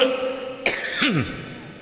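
A single sharp cough, close and abrupt, followed by a rough, fading throaty rasp.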